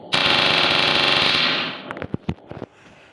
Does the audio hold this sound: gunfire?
yes